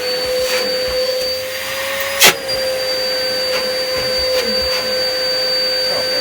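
A workshop vacuum runs continuously close by with a steady high-pitched suction whine and roar, its pitch shifting slightly as the airflow changes, with one sharp knock partway through.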